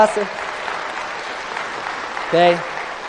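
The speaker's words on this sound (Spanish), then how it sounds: "Vamos a darle un fuerte aplauso." Loud applause at a church gathering for a member's birthday, a thick, continuous wash of clapping from a crowd, with short bursts of a voice rising over it at the start and near the end.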